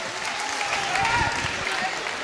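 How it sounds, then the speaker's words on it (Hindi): Crowd applause at a mushaira poetry gathering in Bhiwandi, a dense continuous wash of clapping from a large audience with a few faint voices mixed in. "जोरदार तालियां बजाइए।"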